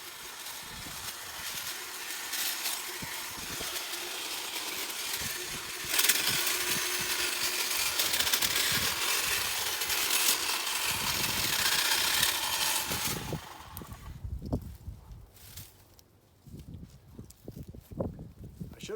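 DeWALT hedge trimmer cutting through hedge branches outdoors, a steady buzzing motor drone with crackling snaps of twigs for about thirteen seconds, then stopping and leaving scattered rustling and clattering of cut branches.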